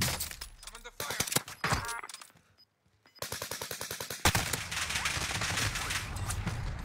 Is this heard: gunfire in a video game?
yes